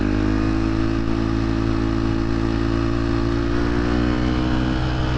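A 2023 KTM 250 XC-F dirtbike engine revs hard and steadily on the street, a loud, close, continuous throaty drone that holds its pitch with slight throttle swells and no talking over it.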